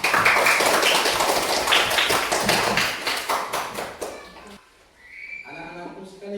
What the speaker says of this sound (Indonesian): Iya, saya berikan aplaus kepada kita.